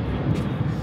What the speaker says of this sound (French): Ah, il y a un avion.